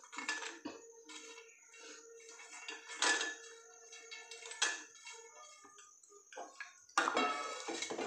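Fried cashews being added to gravy in a pan for kaju masala, a series of close metallic clinks and scrapes of a spoon against the pan, quiet between the knocks and with no talking.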